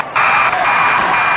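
A loud, sustained end-of-game buzzer at a high school hockey game sounds right after a brief lead-in and holds steady to the end, with crowd noise beneath it.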